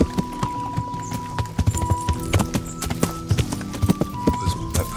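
A horse's hooves clip-clop steadily in the medieval game Kingdom Come: Deliverance, the close, rhythmic footfalls mixed with background game tones.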